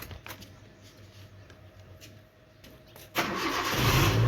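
A family car's engine cranking and catching at the end, a sudden loud roar rising to a steady idle after a few seconds of quiet cabin hush with small clicks.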